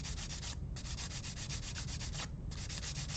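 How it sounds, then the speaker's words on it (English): Sandpaper rubbing back and forth over a plastic Gunpla model kit part, a steady close scratchy sanding with quick repeated strokes and two brief pauses, no talking. "whenever you're sanding, let the sandpaper do the work"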